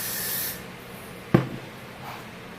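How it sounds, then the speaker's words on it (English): Hairspray burst aimed at the back of the hair while styling a bubble ponytail, a brief hissing spray in the first half-second followed by quiet room tone and a faint tap. "Spray again for the back because you want the back to really stick and be flat."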